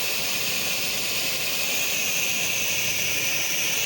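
A pressure washer rinses a very dirty wall, giving a loud, unbroken, close hiss and roar of spray that holds steady throughout with no talking.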